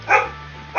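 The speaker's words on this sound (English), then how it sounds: "I'm so sorry for my dogs in the background." Pet dogs bark twice indoors, short sharp yaps close by with a brief pause between them.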